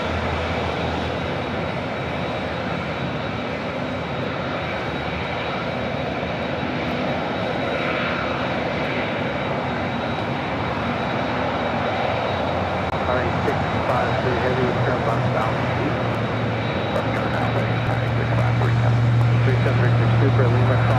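An Emirates A380 at LAX produces a continuous loud jet engine roar, with a deep low drone that builds toward the end, while a person talks over it.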